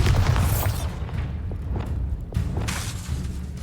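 A Bombarda spell explosion in the video game Hogwarts Legacy: a loud, deep booming blast up front, followed by rumbling debris and a second burst of noise near the end, with no talking.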